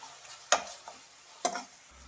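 A spoon stirs frying onions with soy sauce in a pan, giving two sharp scraping strokes with faint sizzling between them. The sound is quiet and nearby, with no speech.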